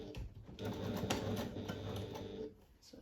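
A sewing machine tacks fabric in place with a lengthened stitch and about a half-centimetre seam allowance, giving a steady, close whirring hum that runs unbroken for the whole stretch.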